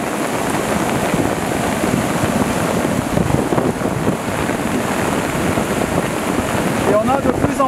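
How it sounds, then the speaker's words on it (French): Strong wind buffeting the microphone amid steady rain during a storm at Le Claret, low rumbling gusts throughout with a brief high squeak near the end. "Et on a de plus en plus de vent aussi."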